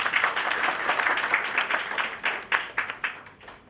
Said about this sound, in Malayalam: വിധുവിന് അതിന് കയ്യടി കൊടുക്കണമെന്നാണ് എൻ്റെ അഭിപ്രായം